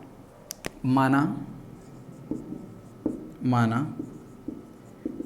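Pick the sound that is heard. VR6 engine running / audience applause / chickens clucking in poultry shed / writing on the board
writing on the board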